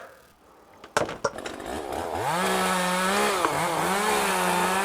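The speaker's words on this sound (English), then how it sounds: "I don't want you to use that chainsaw" A chainsaw starts with a few sharp pulls and sputters, then catches and settles into a loud, steady whine that rises and dips slightly as the throttle shifts, sounding close by.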